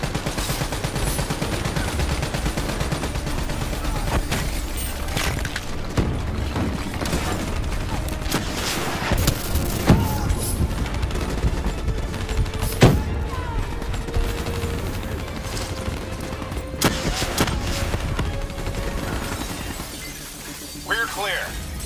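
Turret machine gun fire in Call of Duty: Black Ops 3 rattles in dense, rapid bursts mixed with sharp cracks, shattering debris and heavy booms, loud and close, with voices under the combat.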